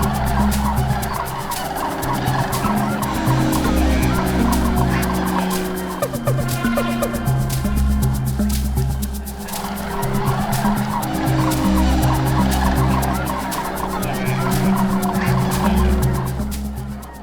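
Sandhill cranes migrating near Bosque, New Mexico, in the Bernardo Wildlife Area, call in a dense, continuous rattling chorus of many birds, loud and steady throughout with no speech.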